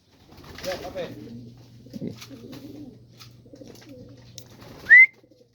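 Soft, low coos from pigeons at a loft in Urdaneta, Pangasinan, repeating near and quiet, with a sharp whistle-like note near the end.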